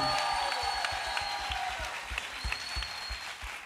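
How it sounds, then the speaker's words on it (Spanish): Applause on a Colombian radio show, a short burst of clapping that fades slightly under some talk and background tones in the studio. "un aplauso para todos los que nos siguen a esta hora a través de la W"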